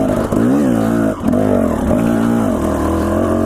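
A dirt bike engine revs loudly and close on a mountain trail ride, holding a strained drone in too high a gear with rises and dips in pitch and a brief drop around one second.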